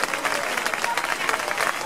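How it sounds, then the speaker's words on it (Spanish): A live event audience gives a round of applause to performers during an evening show in Spain, producing a steady, fairly dense clapping over a brief stretch with crowd noise beneath it. "Un fuerte aplauso para ellos."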